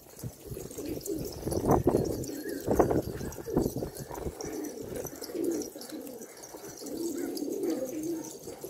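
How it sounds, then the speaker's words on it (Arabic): Several pigeons coo close by, mixed with soft fluttering and shuffling sounds. "طبعا محمد الغالي محمد حموري قال لي هسه لازم تصورنا الحمام كلها طير طير"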